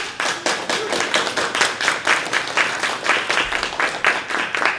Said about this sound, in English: Please, a round of applause for Sara